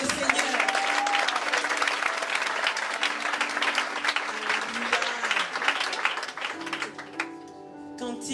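A church congregation applauds steadily and loudly throughout, a dense wash of clapping with voices and some sustained tones beneath, fading slightly near the end.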